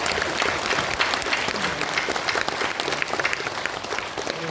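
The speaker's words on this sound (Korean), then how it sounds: "우리 박수로 먼저 하겠습니다." Congregation at a New Year blessing revival service in a church bursts into loud, continuous applause, many hands clapping densely and evenly at close range.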